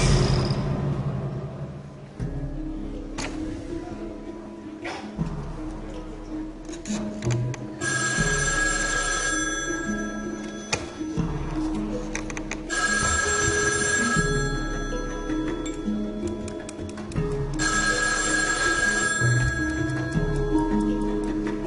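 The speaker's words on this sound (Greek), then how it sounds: "Πάει το τηλέφωνο." A telephone rings on the set of a televised game show, its electronic ring repeating in several long bursts over steady studio music and background noise.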